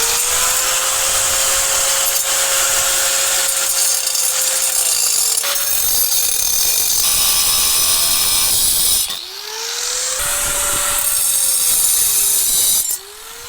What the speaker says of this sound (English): Let's start cutting this off because I won't need it there.